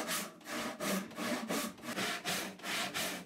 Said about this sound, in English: I keep checking that the saw is following the lines of my initial marks